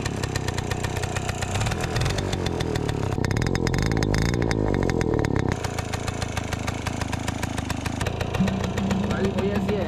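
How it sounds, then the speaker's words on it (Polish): Motorynka moped two-stroke engine running hard and revving continuously while drifting on ice, loud and close, with a buzzy, rising and falling tone throughout and no speech. "w którym przepalimy motorynkę i pojeździmy po lodzie"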